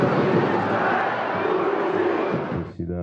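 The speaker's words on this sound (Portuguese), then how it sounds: "surgiram os primeiros gritos de Muricy" A large football crowd at a São Paulo match chants a coach's name in unison, a dense, sustained roar of voices that fades out abruptly near the end.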